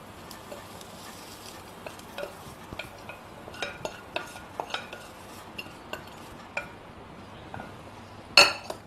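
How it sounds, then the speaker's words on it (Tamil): A spoon stirring coriander into paniyaram batter in a bowl, soft wet mixing with scattered light clinks against the rim and one sharper knock near the end, close and without talk. "இப்போ இதை இந்த மாவுல கலந்துக்கலாம்."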